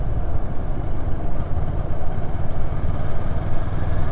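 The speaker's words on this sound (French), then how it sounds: "50 en 6, le moteur repart sans broncher." A Moto Morini Seiemmezzo inline twin engine pulls steadily from low speed in sixth gear, a close, even low-pitched drone with a smooth pulsing throb and no knocking.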